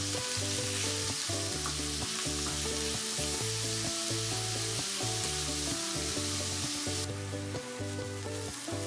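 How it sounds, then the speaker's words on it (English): Pork sears in a hot wok for a yellow bean sauce dish, giving a loud, dense, continuous sizzle that holds steady close up for the whole stretch, with no talking. "leave it for around 30 to 40 seconds to sear"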